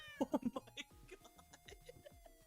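A cat lets out a short series of loud, quick meows close by, four or five rising cries, then voices talk softly beneath as the sound fades.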